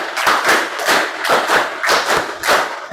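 Schoolchildren in a classroom ice-breaker clap a counted rhythm in unison, about ten loud, close group claps falling in quick clusters with short pauses between them.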